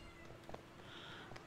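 A house cat meows indoors, a faint short call or two from nearby against a quiet steady background hum.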